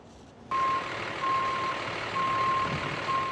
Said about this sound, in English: practicing how to reverse park a tractor trailer, also known as a truck, on a quiet street corner in Bronx, New York